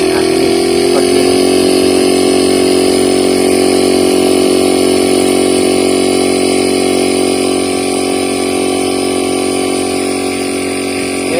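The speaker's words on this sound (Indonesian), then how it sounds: "Jadi seperti ini cara kerja mesin kompresor inverter." An LG inverter refrigerator compressor runs with a steady, continuous mechanical hum rich in stacked tonal harmonics, holding an even loudness for the whole stretch with no talk over it.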